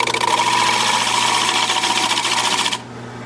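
A wood lathe spins a junk wood bowl during a cleanup pass, a loud close steady whir with rapid rhythmic flutter that cuts off near the end.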